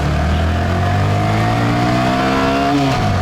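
Honda Grom motorcycle engine revving on the streets of Saigon, Vietnam: a loud, steady high-rev drone with pitch slowly climbing and shifting, close and continuous without talk.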